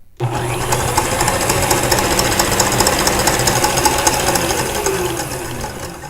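An electric mixer runs steadily at high speed, whipping macaron meringue toward stiff peaks for lemon macarons; a loud, continuous motor whir and beater rattle with no talking.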